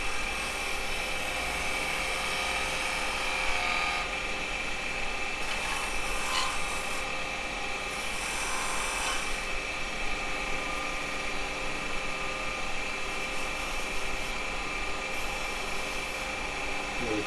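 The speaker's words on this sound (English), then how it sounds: "I'm going to use a small spindle gouge just to make that edge round." A wood lathe spins a mallet while a small spindle gouge rounds its edge, giving a steady, close whirring rasp that holds for the whole stretch with slight swells in the scraping.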